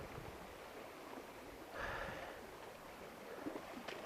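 A fast-flowing stream at a gold-panning spot in Poland makes a soft, steady rushing wash of water throughout, fairly faint, with no talking.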